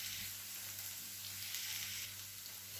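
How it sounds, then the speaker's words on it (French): Meat and onion fry in a pan with a steady, even sizzle, close and moderately loud, with no voices. "Ensuite, je mets la viande."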